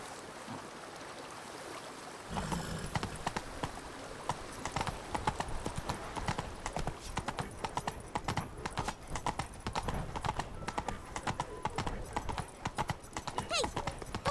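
Horse hooves clip-clop in a rapid galloping rhythm in The Witcher 3, close and continuous after a brief quiet opening, with occasional shouted commands to the horse.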